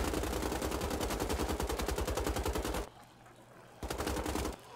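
Enemy soldiers firing automatic weapons in Wolfenstein: The Old Blood, a loud rapid machine-gun burst for nearly three seconds, a pause, then another short burst.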